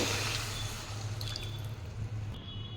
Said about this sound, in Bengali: এবার আমি এর মধ্যে পরিমাণ মতো জল অ্যাড করব